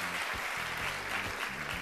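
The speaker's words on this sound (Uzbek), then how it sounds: "Mana bu qarsaklar sizga." Studio audience on an Uzbek TV game show applauding a departing contestant, steady close clapping throughout with faint background murmur.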